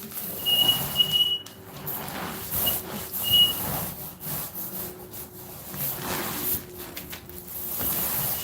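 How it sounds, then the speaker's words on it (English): A large 150-inch 16:9 fabric projector screen, old and marked, gives off rubbing squeaks and scraping friction as it is handled, with a few thin high squeals coming close by and no talk. "Sorry about the squeaks"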